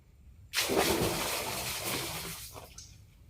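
Lake water splashes in one sudden close burst that rushes and slowly fades over a few seconds, with a small second splash near the end.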